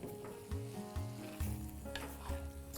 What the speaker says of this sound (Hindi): ये भुनाई जो है ना बहुत ज़रूरी है, चिकन चेट्टिनाड के कलर को भी सेट करने के लिए